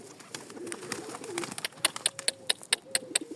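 Pigeons coo softly in low, rolling calls outdoors in sunshine while sharp clicks and flutters, like wingbeats or pecking, grow more frequent toward the end.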